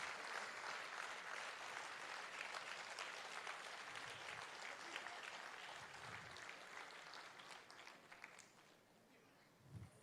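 Applause from an audience at an award presentation during a Bharatanatyam dance event, a dense steady clapping wash that fills the whole stretch and slowly thins toward the end.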